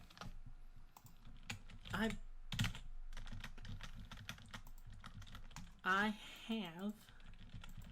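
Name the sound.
typing on a computer keyboard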